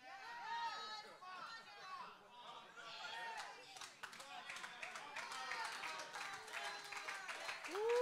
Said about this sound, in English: Ooh, I'm getting some good claps.